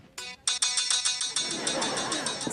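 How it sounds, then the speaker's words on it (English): A bright electronic phone ringtone plays loudly and repeatedly, its beeping pattern continuing steadily with some background noise underneath. "Somebody's ringtone"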